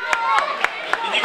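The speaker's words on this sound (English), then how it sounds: "Give a round of applause for Lani Magic." Audience applause at a church Christmas community event after a children's magic act, steady clapping throughout with a few sharper louder claps standing out, close and dense.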